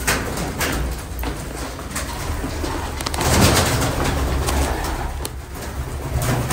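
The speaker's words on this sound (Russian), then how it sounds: "Нифига тут голубей." Pigeons coo and flutter inside an abandoned school building, a steady murmur of calls close by with a brief swell of louder activity midway, no talking over it.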